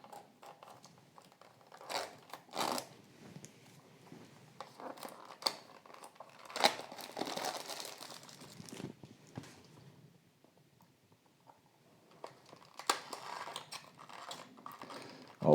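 Cardboard box packaging of a Mini GT Ford GT model car is cut open at close range, giving scattered scratchy slicing and crinkling sounds with quiet pauses between them.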